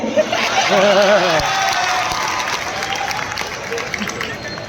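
Audience applause at an All India Mushaira poetry gathering in Hyderabad: a sustained wash of clapping from a large crowd, with a voice briefly sounding over it at the start.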